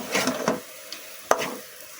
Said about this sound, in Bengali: এখন শুধু নেড়ে চেড়ে উল্টিয়ে পাল্টিয়ে একেবারে নামিয়ে ফেলবো।